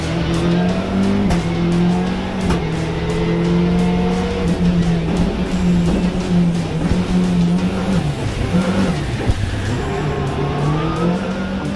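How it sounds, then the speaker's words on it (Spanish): Seat Córdoba World Rally Car, a tarmac-spec Tour de Corse car, driven hard on asphalt: a loud, close engine holds a steady high drone with rising and falling revs through gear changes, plus tire squeal, throughout the run. "vamos a ver lo que realmente puede dar de sí el Córdoba World Rally Car"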